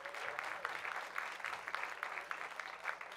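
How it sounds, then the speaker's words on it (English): An audience at a comedy club graduation show in Virginia Beach applauds a comedian, a sustained, even wash of many hands clapping at moderate distance throughout. "Give him a big round of applause"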